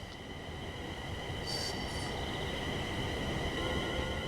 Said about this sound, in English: This train is a Class 350/1 electric multiple unit manufactured between 2004 and 2014 and is part of the Desiro family.